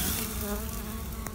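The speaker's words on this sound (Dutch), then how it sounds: "Hier zie je dus een enkele wesp" A lone wasp buzzes at a beehive entrance late in the season, a steady close drone with a slight rise near the end, heard alone without voices.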